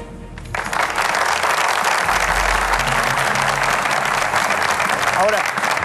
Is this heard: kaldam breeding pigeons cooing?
no